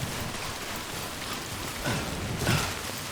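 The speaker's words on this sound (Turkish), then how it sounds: "Ya şu yağmur bitiriyor bizi ya." Steady, soft rain hisses throughout in the video game Death Stranding, with a couple of heavier splashes near the end.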